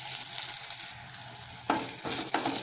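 Brinjal pieces sauté in an oiled pan for a Tamil buttermilk curry, a close, steady frying hiss broken by a few sharp bursts of stirring and scraping.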